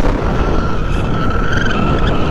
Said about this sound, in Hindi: ये टायर देख रहे हो पीछे वाला, ये पूरा स्किट किया है इसने।